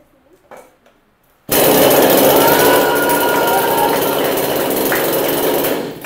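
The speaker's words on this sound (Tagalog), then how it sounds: "Nakalimutan ng patayin yung kanyang chainsaw" A chainsaw left running at a product demonstration in Bacoor, Cavite roars loudly and steadily right after a short quiet stretch with faint voices, holding an even engine whine until it tapers near the end.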